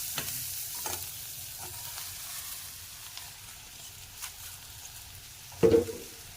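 Papadam fries quietly in a pan with a soft background sizzle, punctuated by occasional light stirring scrapes and a louder clatter near the end, with no speech.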